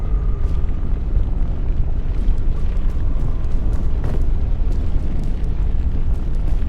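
Lava and fire in the video game PEAK, a steady loud low rumbling roar with crackling pops scattered across it and no speech.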